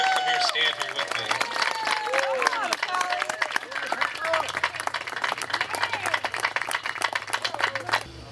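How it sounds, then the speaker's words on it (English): Scattered clapping from a small outdoor crowd at a city birthday celebration honoring a project manager, distinct individual claps over people talking nearby, moderately loud and continuous. "I want to give him a round of applause."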